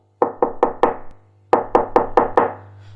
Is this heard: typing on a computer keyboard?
no